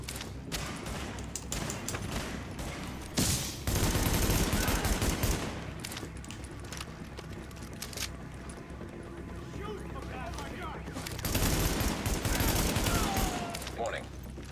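Rapid bursts of gunfire from The Division video game, heavy and dense in two loud stretches with steadier shooting between, with voices talking over it.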